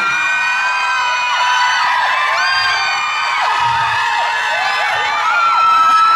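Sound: crowd screaming

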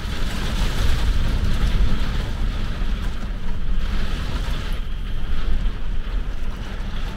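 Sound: heavy rain and strong wind gusts

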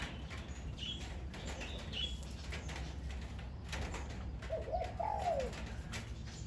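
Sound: songbird (nok mongkol) singing

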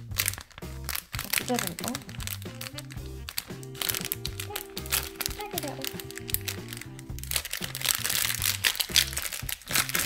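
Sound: unwrapping Funko Ryu figure from packaging

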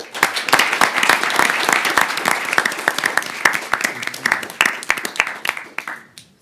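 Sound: audience applause

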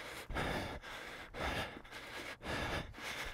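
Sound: heavy breathing during HIIT workout

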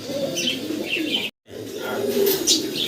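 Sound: pigeons cooing

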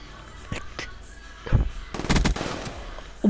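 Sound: gunshot in a video game shooter

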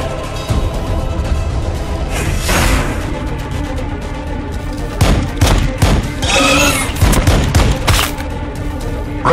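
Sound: plasma fire support barrage in video game Warhammer 40,000: Battlesector

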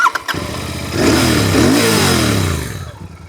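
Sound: Royal Enfield motorcycle exhaust note

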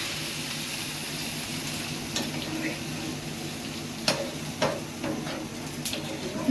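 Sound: adding liquid to sizzling fish curry in a pan

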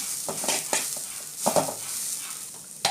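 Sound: sautéing grated coconut with banana stem in a pan

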